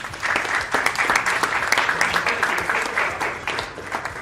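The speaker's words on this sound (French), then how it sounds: "Sous vos acclamations, bien sûr." Clapping from an audience at a company presentation, a thick, continuous patter of many hands with sharp individual claps standing out, sustained at moderate loudness.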